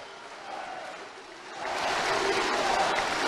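An audience applauds at a Guaraní land title handover ceremony in the Gran Chaco, Bolivia; scattered clapping swells into loud, sustained applause from a large crowd.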